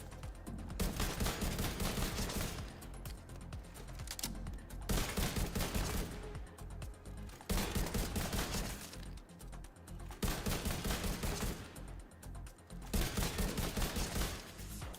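Rifle gunfire from The Division 2 comes in repeated loud bursts of rapid shots, each burst a second or two long, separated by short pauses.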